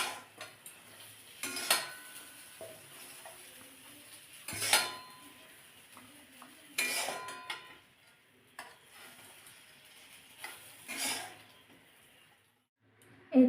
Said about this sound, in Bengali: এই যে টিফিনের মধ্যে আমি সব সিম ভাজাটা দিয়ে দিয়েছি।